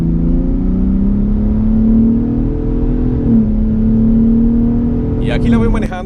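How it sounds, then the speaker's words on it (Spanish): A 2021 Ford Raptor pickup cruising in 4x4 on a calm Nevada highway, a steady close engine drone with tire and wind roar that rises and dips gently as it holds speed; a brief rattling burst near the end. "Aquí la voy manejando en una carretera bastante tranquila de Nevada"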